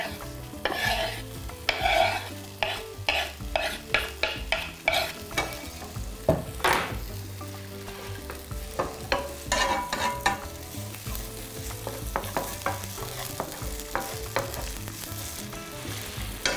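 About five slices of ham fry in a pan with a steady sizzle, broken by frequent scraping and stirring strokes and clinks of a utensil, close and fairly loud, with no voices.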